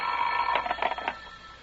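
A telephone bell rings in a radio drama, one short burst of rapid metallic trills that stops abruptly and leaves near silence.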